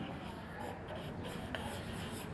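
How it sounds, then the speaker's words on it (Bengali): Chalk scratches steadily across a classroom board during a class-two maths lesson, a soft continuous scraping with a few brief taps, fairly quiet and heard alone without talk. "এখন মন্তব্য লিখব বা উত্তর লিখব"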